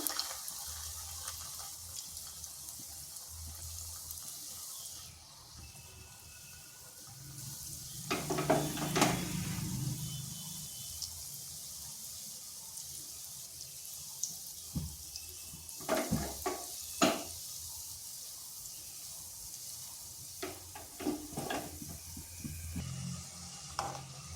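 Semolina being stirred and fried in a pan over medium heat for sitabhog, a soft continuous hiss with intermittent scraping stirs and a brief louder clatter, fairly faint and close.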